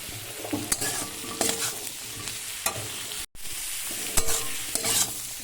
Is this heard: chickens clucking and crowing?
no